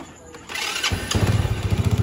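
A Rusi MP100 motorcycle engine cranks and catches, then settles into a close, loud, rhythmic idle chug.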